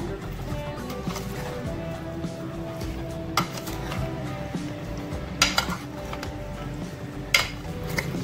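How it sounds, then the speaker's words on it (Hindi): A spoon stirring fruit chaat ingredients with lemon juice in a bowl, producing soft clinks and scraping against the dish, with a few sharper taps, steady and close over low background hum. "तमाम चीजों को मिक्स करेंगे ऐसा ऐसा"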